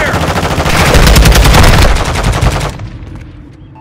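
Rapid automatic gunfire from a multiplayer match in Call of Duty: Modern Warfare II, loud, dense bursts hammering close by for a few seconds before breaking off into quieter background noise.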